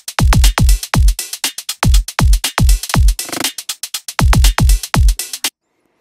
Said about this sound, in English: here's an example of just a very basic drum loop